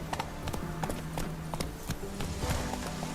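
Horse hooves clip-clopping in The Witcher 3 video game, a steady run of close hoof taps over a low background score, with no talking.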